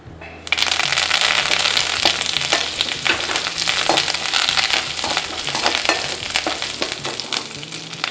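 Curry leaves dropped into hot olive oil in a pan burst into a loud, steady crackling sizzle with sharp spitting pops throughout, close up and alone with no talking.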